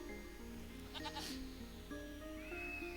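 Goats bleat a few times at low volume in the video game Equilinox, with a steady hum and sustained tones in the background.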